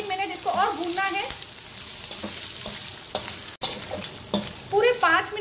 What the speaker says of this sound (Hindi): पूरे 5 मिनट इसको मैंने घी में भूना है